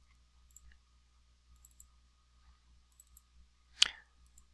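Computer mouse clicks inside LiDAR data software, a scattered series of faint, quiet clicks capped by one sharper, louder click near the end, with no talking.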